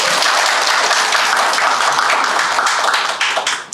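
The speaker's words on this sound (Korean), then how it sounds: "레슨팀한테 박수 한번 부탁드립니다." Crowd applauds the plant team at a Busan biodiversity survey gathering, a thick wash of clapping hands that stays strong and then tapers off near the end.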